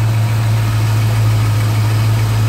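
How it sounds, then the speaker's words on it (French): A 1966 Ford Mustang Convertible's C-code V8 engine idles steadily and smoothly, a constant low rumble with a strong deep hum, close and loud, no speech. "Et un moteur qui tourne bien."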